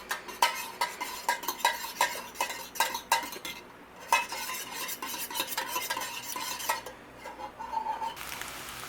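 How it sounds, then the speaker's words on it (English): Eggs whisked briskly in a bowl with a metal utensil, a steady run of quick clicking taps against the sides, with a short pause midway and a faint sizzle of frying in the background. "Give them a little whisk."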